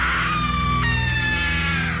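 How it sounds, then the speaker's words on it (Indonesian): A drawn-out shrill scream, loud and sustained over a low steady drone, serving as a sound effect in a spooky horror tale. "Terdengar suara jeritan dari luar."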